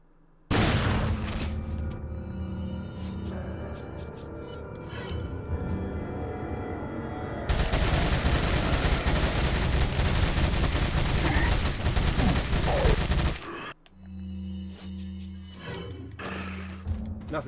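Dense, loud gunfire from a Resident Evil 4 gameplay fight: continuous rapid shots and thumping impacts over game music and effects, breaking off abruptly near the end before quieter in-game sounds return.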